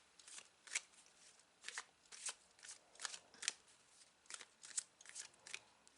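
Tarot cards shuffled and drawn by hand in a quiet room, a run of crisp, close riffling bursts at an uneven rhythm, soft overall with no talking.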